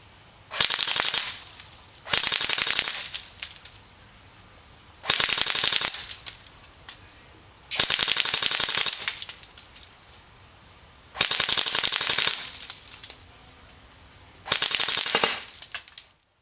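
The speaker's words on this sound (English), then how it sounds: "Let's see how well this gun functions firing fully automatic." A Cybergun Thompson M1A1 airsoft gun fires six fully automatic bursts of roughly a second each, separated by short pauses, crisp rapid rattling at close range with no talk.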